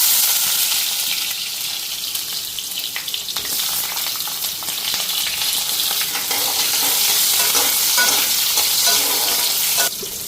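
Potato and eggplant pieces frying in hot oil with black cumin, a loud, dense, continuous sizzle with stirring noise, heard close up and without speech.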